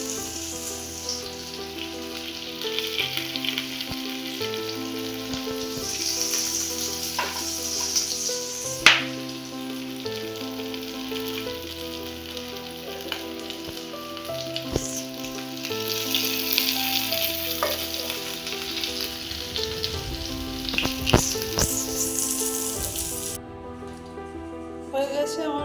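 Bengali fish-oil fritters (macher teler bora) fry in hot oil with a steady, fairly loud sizzle and crackle over a background of music, with occasional utensil clinks and no speech.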